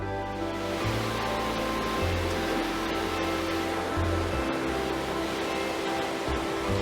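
Flowing stream water rushes in a steady, dense wash close by, a continuous hiss with no pauses and no voices.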